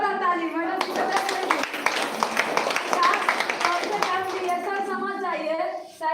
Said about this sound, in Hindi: जोरदार ताली मैडम की